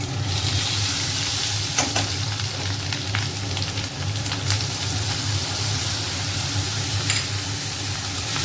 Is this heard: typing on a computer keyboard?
no